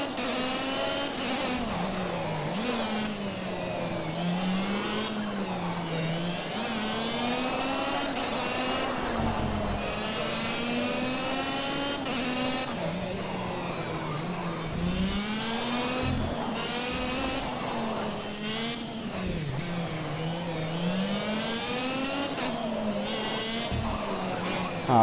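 A racing car engine in Project Cars drones continuously, its pitch climbing and dropping through repeated revs and gear shifts across a long lap, with no talking.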